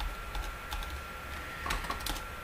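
Computer keyboard keys pressed in quick, light taps while Enter is hit repeatedly in a terminal to run npm init; soft, close clicks over a steady low hum.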